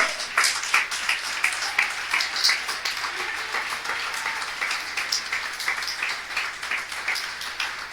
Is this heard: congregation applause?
yes